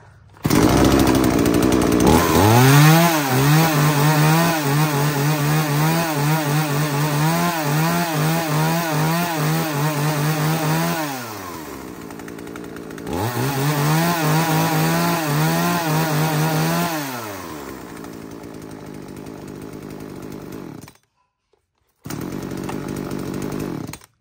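Chainsaw cutting wood logs about 25 cm in diameter, a loud, close engine roar under load with rising and falling revs, two long cutting passes separated by a drop to idle, then a brief silence and a restart.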